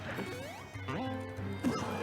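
In a Super Smash Bros match, Roy lands a forward smash on Sonic with a sharp crash-like hit amid busy game effects, the impact brief and loud, while a commentator talks over the mix.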